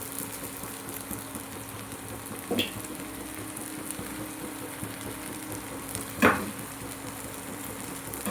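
Spices and cabbage fry together in a pan with kasuri methi, cumin, turmeric, coriander and garam masala. A low, steady sizzle carries two distinct spatula knocks. No talking.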